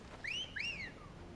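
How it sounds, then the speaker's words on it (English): A two-note whistle from a character in the video game Final Fantasy XVI, two clear rising-then-falling pitched tones in quick succession, moderately loud over a quiet game background with no talk. "Nice whistle."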